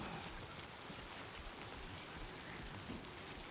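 Steady timefall rain in the Death Stranding 2 video game, a soft continuous hiss of falling drops on surfaces, faint and even throughout with no voices.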